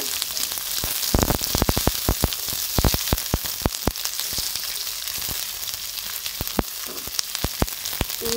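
Garlic, onion and ginger sizzle steadily in a hot frying pan, a dense continuous crackle with sharp pops scattered throughout, close and loud with no voices.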